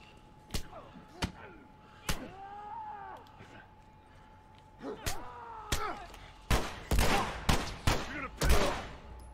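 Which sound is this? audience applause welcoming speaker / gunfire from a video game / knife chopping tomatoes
gunfire from a video game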